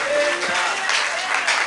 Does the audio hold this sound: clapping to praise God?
yes